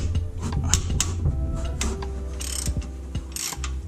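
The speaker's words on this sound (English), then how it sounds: "14mm wrench on the nut here, 14mm socket on the bolt side here, the hex bolt." A 14mm socket wrench ratchets a hex bolt loose on a Mazda Miata during belt and alternator work, giving a close run of clicking, metallic ticks with a few sharper knocks, with no talking.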